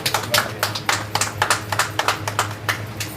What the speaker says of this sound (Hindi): इसके लिए मैं चाहूँगा जोरदार ताली बजाइए